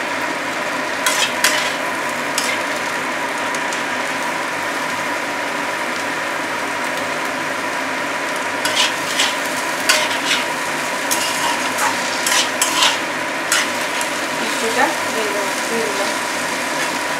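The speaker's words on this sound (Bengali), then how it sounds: "নাড়বো হালকা করে" Chira pulao, a flattened-rice dish, being stirred lightly in a pan: a steady hiss of cooking runs throughout, with scattered scraping clicks of the stirring that cluster in bursts toward the end.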